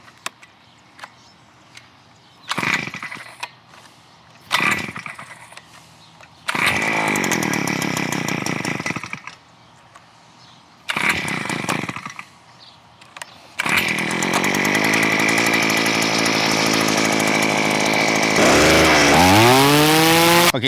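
Earthquake gas-powered planting auger engine with a rapid-fire planting bit, pulled several times in short loud bursts, then catching and running steadily nearby with a buzzing two-stroke whine that revs up near the end.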